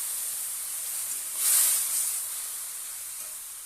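Boiled vegetables dropped into a hot pan of tempering with dried red chillies, five-spice and slit green chillies give a soft, steady sizzling hiss that swells briefly and then settles, with no talk.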